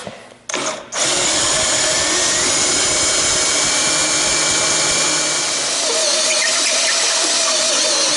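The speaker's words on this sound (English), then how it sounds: "So we're going to drill this bad boy dry" A power drill bites dry into metal, cutting without oil, with a loud, steady grinding whine and a high squeal, starting after a brief spurt and running continuously.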